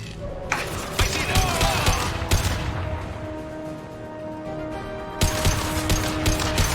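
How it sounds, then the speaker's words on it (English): Concussive shot firing in Mass Effect 2: loud, punchy bursts land at intervals over a steady, droning game soundscape of rumble and mechanical tones. "Firing concussive shot!"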